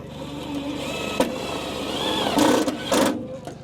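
A power driver runs half-inch screws into insulation inside a Winnebago EKKO van, with a steady motor whir and a few short louder bursts as the screws seat, close and under light room noise.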